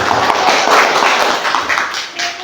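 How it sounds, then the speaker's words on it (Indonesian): A classroom audience of students claps after a group presentation on the respiratory system, a loud, dense burst of hands clapping close by for a couple of seconds. "Kita berikan tepuk tangan."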